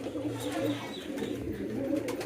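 Domestic pigeons, Bombay birds kept by a hobbyist, coo in low throaty rolling calls close by at feeding time, over a faint background murmur.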